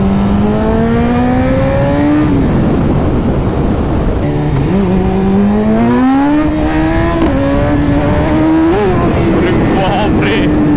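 A BMW S1000RR superbike in rain mode pulls hard from first gear, its engine note climbing in steady sweeps with brief dips at gear changes. The exhaust roar stays loud and close over heavy wind rush for the whole stretch.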